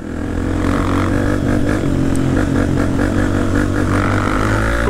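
A Honda CRF dirt bike engine on a muddy trail, loud droning revs close by with a few throttle pulses rising and falling, continuous and dominant with no clear talk.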